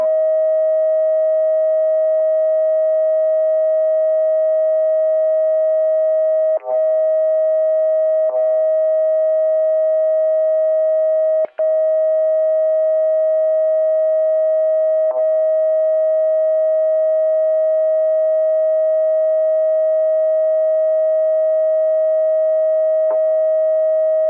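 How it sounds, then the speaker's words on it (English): A stuck transmitter key on a 2-meter amateur radio simplex net holds a loud, unbroken electronic tone, marked only by a few tiny clicks. "I've got a dead key with the tone around here"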